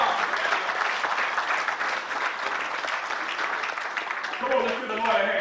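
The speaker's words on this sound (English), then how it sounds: "Give him a round of applause." Audience applause at a peace summit as a pastor is brought to the stage, a loud continuous crowd of clapping hands with voices rising over it toward the end.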